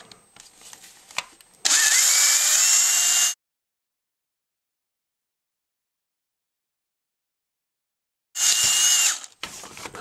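A power drill with a 5/16 inch bit bores into a plastic 35mm film canister in two loud bursts, a long whining run and then a shorter one, separated by silence.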